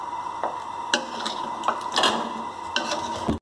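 Chicken shahi qorma being stirred in a pot, with a steady low sizzle beneath repeated scraping and clinking strokes of a spoon against the metal, close and moderately loud.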